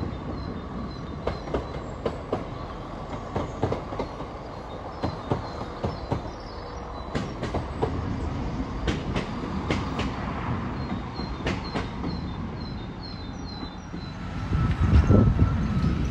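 A train runs through Ambergate Junction coming off the branch line toward Ambergate Station, steady rumble with rhythmic wheel clicks over rail joints and a brief squeal near the end, heard fairly close.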